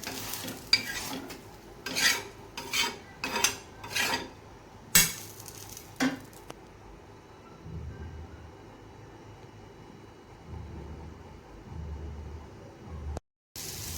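Quick rhythmic scraping and tapping for several seconds, then a low, steady frying sizzle of batter-coated leaves on a griddle that carries on quietly with no voices.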